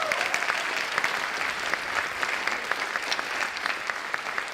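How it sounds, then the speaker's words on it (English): Audience applause after a jazz band's 30th anniversary concert, a steady dense wash of clapping from a large crowd lasting several seconds, close and even in loudness, with no talk. "So then, let's give them a round of applause."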